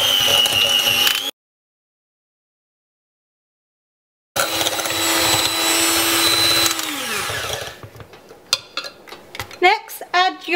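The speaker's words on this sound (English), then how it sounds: "give that a good mix for a couple of minutes until the sugar is dissolved" Cream cheese and white granulated sugar being beaten together for mini no-bake cheesecakes, a steady close whirring mixer drone with clattering bowl noise, pausing for a few seconds of silence then running again before fading into scattered clicks.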